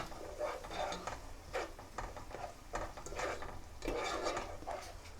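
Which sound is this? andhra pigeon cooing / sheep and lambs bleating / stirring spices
stirring spices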